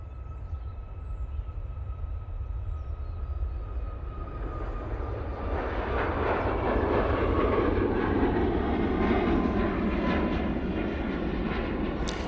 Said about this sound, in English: Ryanair 737 MAX 8 departing now